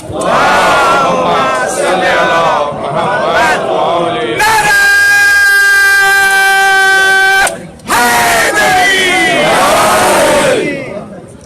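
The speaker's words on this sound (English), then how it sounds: "Please welcome him with a loud salawat." A protest crowd chants a loud salawat in unison, with voices swelling together and a steady, sustained tone holding through the middle before the chanting resumes.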